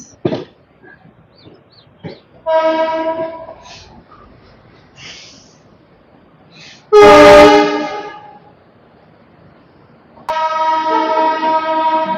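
Horn blasts from the Howrah Indore Express ring out several times at fairly close range: a short blast, then a strong loud one, then a long sustained one at the end, with quieter rail noise in the gaps between them.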